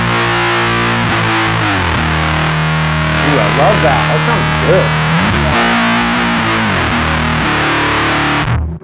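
An electric guitar plays through the fuzz 2 setting of a Zoom Fire 7010 amp and effects processor, a loud, thick and buzzy line of chords and bends, with a voice briefly speaking over it midway before the playing stops.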